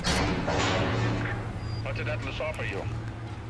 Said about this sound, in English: There's some sort of turret arm thing going off.